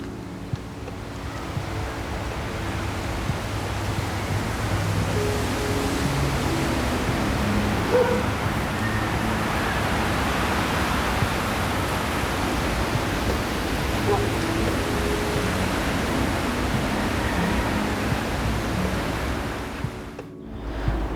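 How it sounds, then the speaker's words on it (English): Strong wind roars steadily, buffeting the microphone with a broad rushing noise that sounds almost like surf. "You hear that wind?"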